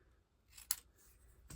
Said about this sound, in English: then I'm going to cut this piece